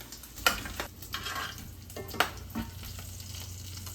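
Bacon and mushrooms brown together in a pan with a steady close sizzle, broken by two sharp utensil clinks and scrapes from stirring.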